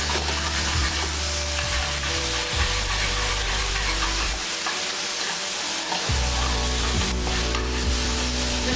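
Ginger garlic paste sizzles steadily in a hot pan with oil while being stirred, a continuous close frying hiss with stirring scrapes, briefly dropping quieter for a couple of seconds before resuming.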